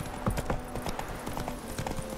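Horse hooves clip-clopping in The Witcher 3 video game, a quick steady run of hollow knocks close by at moderate level over a low background drone.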